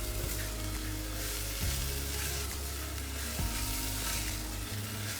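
Potatoes and onions fry in butter with a constant close sizzle, while a spatula stirs them in slow strokes, giving two distinct scraping pushes through the pan under the hiss.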